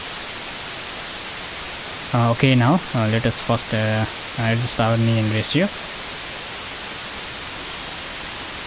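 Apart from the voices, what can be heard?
white noise audio signal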